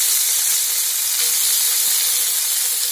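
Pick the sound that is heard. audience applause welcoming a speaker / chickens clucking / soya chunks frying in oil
soya chunks frying in oil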